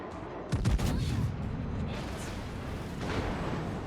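The battleship Georgia fires a salvo of heavy guns in World of Warships, a deep booming volley near the start followed by a long rumbling roll of echoes and distant thuds.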